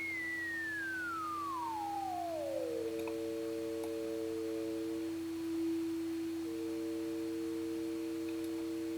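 Resonant synthesizer filter tone with the resonance pushed high, a sweeping screaming pitch that glides downward, then settles into steady sustained whistling tones over a constant drone, loud and alone with no talking.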